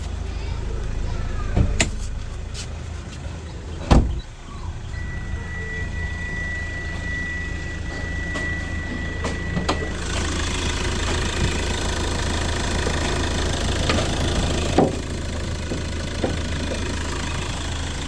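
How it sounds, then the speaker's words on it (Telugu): A Hyundai Verna 1.6 diesel engine idles steadily with a clattering, knocking beat, heard up close and continuously, with occasional faint knocks and clicks in the background. "ఇక్కడ ఇంజన్ బీటింగ్ అయితే మీరు చూడొచ్చండి."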